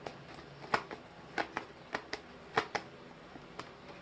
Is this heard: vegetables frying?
no